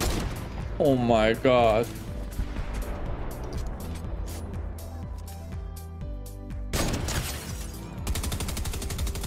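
Gunfire in the Fortnite video game, rapid bursts of shots and crackling impacts scattered through the game sound, with a player's voice speaking over the action.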